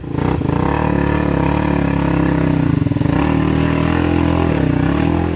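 A Honda motorcycle engine revving loud and close, a continuous rough mid-pitched roar that dips briefly and climbs again.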